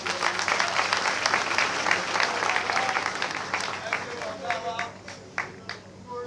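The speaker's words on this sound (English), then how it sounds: "you deserve a round of applause for that" Crowd applause at a political rally for an APC gubernatorial candidate, loud dense clapping with cheers that holds steady for several seconds before thinning and tapering off.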